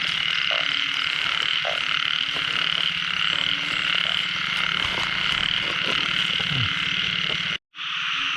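Frogs croak in a dense outdoor chorus at night, a loud continuous trill with scattered nearer croaks, cutting out briefly near the end before resuming.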